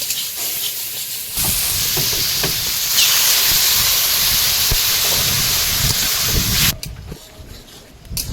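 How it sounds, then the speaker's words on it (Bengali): Water goes into a hot pan of fried eggplant and potato, setting off a sudden loud hissing burst of steam that roars steadily for about five seconds, then cuts off to quieter background. "বেগুন আলুটা ভেজে নিয়েছি এবারে জল দেবো"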